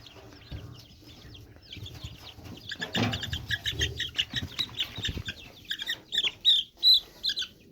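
A backyard chicken flock clucks and squawks with bursts of wing flapping, the calls growing busier and louder toward the end, close by and without talk.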